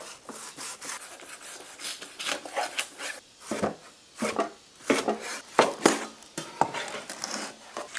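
A knife chops a fried pork hock on a wooden board in quick, irregular strokes that land close and fairly loud, with soft scraping between the cuts.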